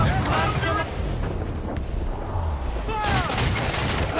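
Cannon fire rumbles through a naval battle in Assassin's Creed IV, low booming blasts under wind and water noise, with shouting voices over the din.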